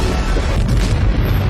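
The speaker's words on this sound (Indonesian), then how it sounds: "bulan terlanjur hancur yang mengakibatkan ledakan yang cukup dahsyat sehingga mengguncang mesin waktu Alex" A film explosion as the moon is destroyed in The Time Machine (2002): a loud, sustained deep rumbling boom with broad roaring noise, steady and heavy throughout with no voices.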